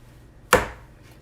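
A knife cuts through a yellow-fleshed watermelon in one sharp, close chop, the crunch fading quickly into quiet.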